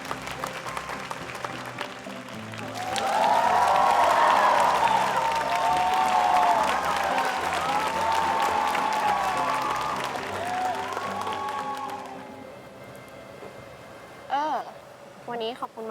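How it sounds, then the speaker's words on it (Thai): A crowd claps and cheers for a stage performance of the bamboo princess at a show, the applause swelling to a loud, sustained burst before tapering off, with a voice briefly heard near the end. "ขอเสียงปรบมือให้กับการแสดงชุดเจ้าหญิงไม้ไผ่ด้วยค่ะ"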